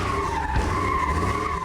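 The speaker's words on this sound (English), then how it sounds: "we laid down just over 100 cones so we can take out our 529 horsepower Trailblazer for a little spin." Supercharged 529 horsepower Trailblazer SS drifting around cones, a sustained tire squeal over engine roar, steady and fairly loud throughout the short stretch.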